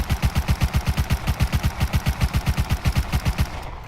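An MP5 submachine gun fires in rapid full-auto bursts in the game Rust, about twenty evenly spaced loud close shots before stopping abruptly, with no voices.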